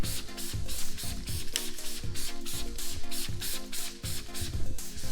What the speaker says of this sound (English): we are going to use Adam's iron remover. We're gonna spray it on the paint.